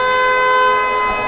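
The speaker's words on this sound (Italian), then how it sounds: "che ormai attende solamente la sirena finale di questa partita" Final siren ending a women's Serie A2 basketball game at the Palavienna arena, a loud sustained horn blast with steady harmonic tones holding for the whole moment amid faint crowd noise.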